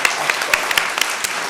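A small audience applauds at the close of a university talk, the clapping fairly close with a handful of distinct louder claps standing out over a steady patter.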